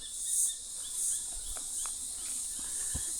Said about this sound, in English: lots of birds, crickets and cicadas.